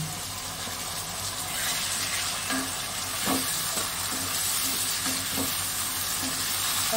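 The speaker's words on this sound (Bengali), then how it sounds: "ভালো করে একটু কষাতে হবে" Chili chicken sautéing in a pan with tomato sauce, soy sauce, vinegar and chili sauce, a steady close sizzle broken by repeated scraping stirs of a spatula, no voices.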